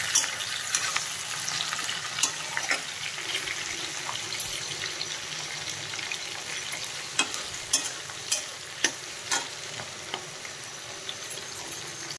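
Vegetables for veg chowmein frying in a hot pan, a steady close sizzle with scattered sharp crackles and pops over a dense hiss.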